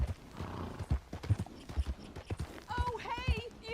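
Horse hooves clip-clopping in the video game Red Dead Redemption 2, a steady run of hoofbeats up close with a whinny-like sound near the end, while someone speaks over it.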